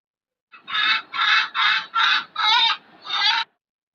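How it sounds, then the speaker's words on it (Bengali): A native hen gives its call before laying an egg: six loud, close, harsh clucking bursts in a steady series over about three seconds, with silence before and after. "মুরগি ডিম পাড়ার আগে মুরগি অন্যভাবে এক ধরনের ডাক দেয়।"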